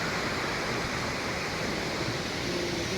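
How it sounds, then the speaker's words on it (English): Bhelughat waterfall in Assam, a year-round falls, roars as a loud, continuous broadband rush of falling water that stays steady and close throughout. "This is a waterfall."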